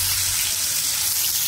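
Fish frying in a pan gives a steady, dense hiss of oil sizzling close by, continuous and fairly loud with no talk over it.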